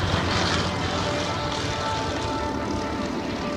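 Three Romanian-built Yak-52 propeller planes fly in formation at an air show, their engines a steady, loud droning roar that holds throughout, with a faint voice underneath.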